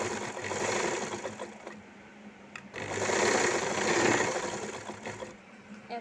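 A sewing machine stitches folded blouse fabric with a steady mechanical whirr. It runs continuously, stops briefly partway through, then speeds up again. No voices.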